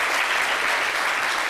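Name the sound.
applause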